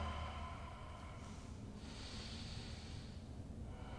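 Slow, audible breaths during Ashtanga yoga practice, a faint nasal inhale and exhale over a steady low room hum, with no talking.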